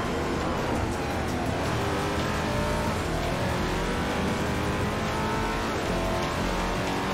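Race car engines roar steadily in Forza Motorsport 4 on the Nürburgring, several cars droning and revving together as a continuous loud, dense engine noise with no talking.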